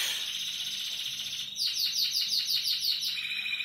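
Small birds chirp nearby, a thin trill at first, then a rapid, bright series of repeated tweets over quiet background.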